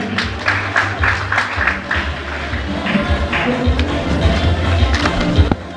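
Applause at a secondary school graduation ceremony, uneven clapping mixed with taps, thumps and crowd noise that grows busier toward the end.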